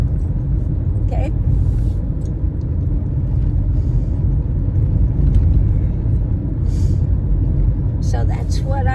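Steady low rumble of a car driving around, heard from inside the cabin, runs continuously beneath someone talking, with occasional faint rattles.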